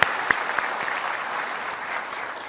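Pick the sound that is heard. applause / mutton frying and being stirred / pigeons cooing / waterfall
applause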